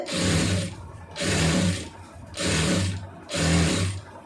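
A domestic sewing machine stitches a plain blouse in four steady bursts, each about a second long, separated by short pauses. The whirring runs close and loud, with no talking.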